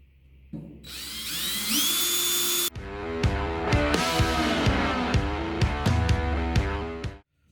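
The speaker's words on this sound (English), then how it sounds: "Then we're going to drill these holes out." A power drill with a 1/8 inch bit whines at high pitch for a couple of seconds, then grinds steadily through material with rhythmic bursts before stopping abruptly.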